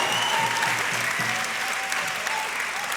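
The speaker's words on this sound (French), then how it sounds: "Veuillez applaudissez bien fort s'il vous plaît" Steady applause from a crowd at a municipal election campaign rally in Saint-Denis, a dense continuous clapping that holds at even strength throughout, with faint voices mixed in.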